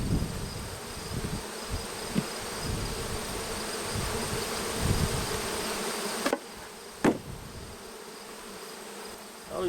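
A honey bee colony buzzes steadily during a late-season hive transfer, a dense continuous drone of many bees close by with a couple of brief knocks partway through.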